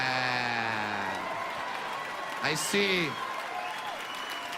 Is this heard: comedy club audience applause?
yes